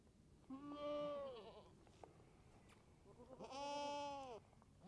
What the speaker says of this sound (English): She is one of my smaller goats